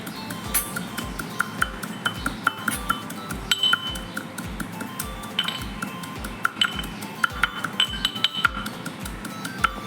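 Panch phoron spices are crushed in a metal mortar and pestle, a steady rhythm of bright clinking pounds, roughly two per second, close and loud.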